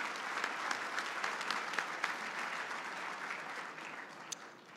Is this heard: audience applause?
yes